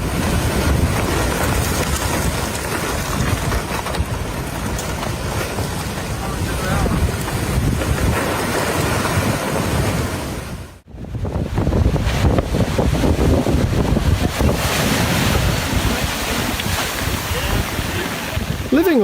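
Huge ocean waves pound against seafront homes during a storm, a loud continuous roar of surf and wind buffeting the microphone, broken by a brief dropout near the middle before the crashing water resumes.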